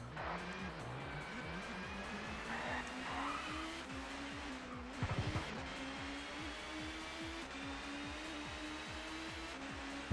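A race car engine in a touring car racing video game whines steadily, climbing and dropping through gear changes, with tyre squeal and a brief knock near the middle. No voices are heard.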